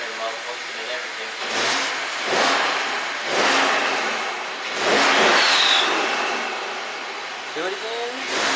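A twin-turbo BMW 550i fitted with new downpipes is revved several times nearby. Each rev swells and falls away, with a rough, raspy exhaust note, and voices are heard around it.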